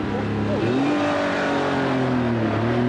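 A Lotus Esprit and a TVR 450 SE sports car race side by side, engines revving loudly with rising and falling tones and shifting gears as they accelerate close by.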